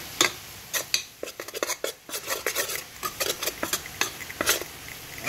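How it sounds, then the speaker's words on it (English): A spoon scrapes and clinks against a pan while flour cooks in butter, a quick run of sharp metallic taps and scrapes at steady close range with a faint sizzle underneath. "I'm gonna cook the flour in the butter."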